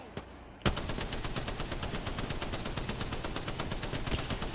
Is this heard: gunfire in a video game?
yes